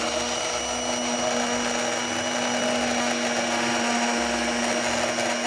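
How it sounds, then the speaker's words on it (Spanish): A steady, high-pitched motor whir from a hand blender held at the bottom of the container emulsifying mayonnaise with extra virgin olive oil runs continuously at an even level, with no talking. "apoyar en el fondo la batidora y no la levantaremos hasta que no empiece a emulsionar"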